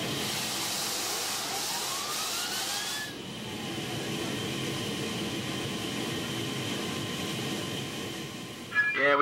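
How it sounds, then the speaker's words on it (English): A Lockheed C-130 Hercules turboprop starting its engine in freezing cold: a rising whine spools up over the first few seconds, then settles into a steady loud turbine roar that holds throughout. "Then they try to start the engine."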